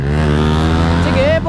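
Yamaha R15 motorcycle engine revving close by, a steady harmonic drone with rising pitch toward the end, with voices talking over it.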